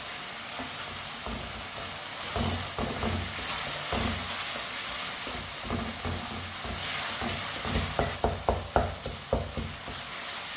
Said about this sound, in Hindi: इसी तरह चम्मच चलाते हुए टमाटर 3 मिनट